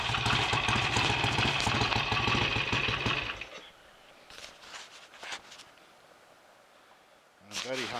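Rebuilt BSA A65 Lightning motorcycle engine running close with a steady, loud throbbing beat, then cutting off to quiet room noise with a few knocks, before a brief burst of sound returns at the end.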